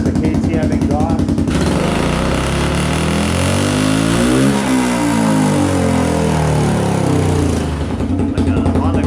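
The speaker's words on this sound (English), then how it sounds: "Alright, doing a sound test. This is the KTM exhaust." Ride-on Power Wheels build fitted with a KTM exhaust, revved in a sound test: a loud, steady buzzing engine note that rises and falls through a sweeping rev in the middle, close and continuous for the whole stretch.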